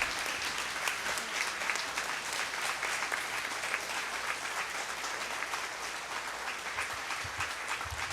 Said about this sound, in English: Please welcome her with a huge round of applause.